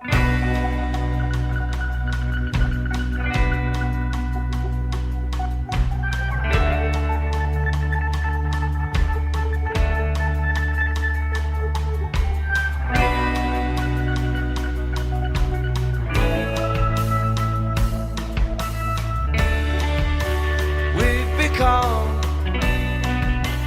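A full band recording of a rock song, with drums, guitars and bass playing continuously at a steady, loud level.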